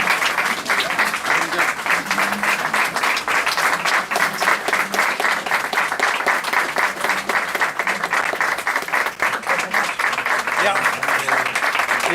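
Sustained audience applause fills a hall at a political speech, dense and steady clapping from a large crowd with scattered voices mixed in, continuing without pause.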